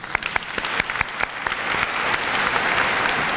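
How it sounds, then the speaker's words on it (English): An audience at a breast cancer awareness luncheon breaks into a round of applause, a few sharp individual claps at first, then swelling into steady, dense clapping that fills the room. "I want to just give them another round of applause."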